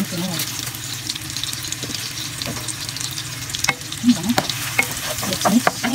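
Onion sautés in a pot for chicken macaroni soup, a steady sizzle broken by repeated spoon scrapes and clinks against the pot, getting busier toward the end; a voice is faintly heard.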